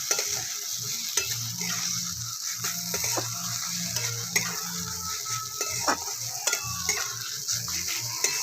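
Pea lentils with pointed gourd frying in a pan, a steady soft sizzle beneath repeated rhythmic scraping and clinking of a spoon stirring against the metal, close and continuous with no talk.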